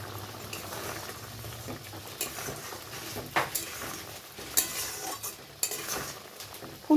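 Fried cauliflower tipped into a pan of Bengali niramish aloo-fulkopi ghonto with gobindobhog rice, then stirred: a continuous bubbling, simmering hiss with scattered sharp clinks and scrapes of a spoon against the pan, close and moderately loud.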